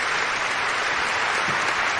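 An awards-ceremony audience applauds the winner of best Twitch influencer, a dense, even wash of many clapping hands, loud and unbroken for the whole moment.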